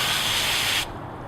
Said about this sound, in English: Cleaning it, I just spray it off with the garden hose.